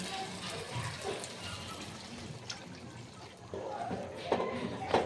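Water is poured into a pan of Bengali malai shrimp curry masala, a continuous splashing pour close by that swells louder toward the end.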